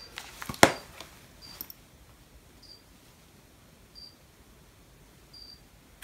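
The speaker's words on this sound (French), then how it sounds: "j'ai les grillons de Harco qui sont en train de gueuler derrière moi" Crickets chirp faintly in the background in short, evenly spaced bursts, with a few louder clicks and knocks up close near the start of an otherwise quiet room.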